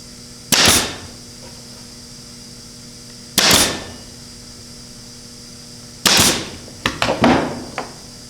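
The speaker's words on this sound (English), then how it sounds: "we keep it from slipping by micro pinning it with 22 gauge tiny little nails" Small 22 gauge pin nails fired into wood with a micro pinner: three sharp single shots spaced about three seconds apart, then a quick cluster of lighter clicks and taps near the end, close and fairly loud with no talking.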